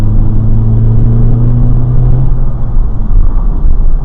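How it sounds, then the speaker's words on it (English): An Acura RSX DC5 engine revs with a deep, throaty short ram intake roar, a low steady drone that rises and rumbles close by, loud and without talk. "Let's get some induction sounds going from the short ram intake"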